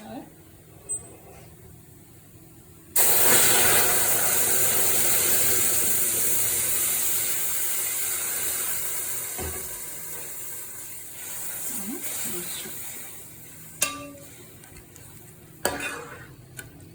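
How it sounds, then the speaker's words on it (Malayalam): After a quiet start, hot milk is poured into a hot pan of semiya for payasam, bursting into a loud sizzle that slowly fades, followed by stirring and light clinks. "ഇനി നമുക്ക് ചൂടാക്കി വെച്ചിരിക്കുന്ന പാലൊഴിക്കാമേ"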